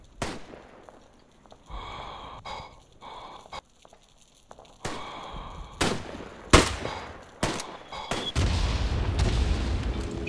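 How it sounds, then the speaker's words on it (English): Battle sounds from the WWI game Tannenberg: scattered sharp gunshots and heavy artillery booms at irregular intervals, building into denser rumbling fire toward the end, with faint bird cawing between blasts. "Dropping artillery on that side of the trench."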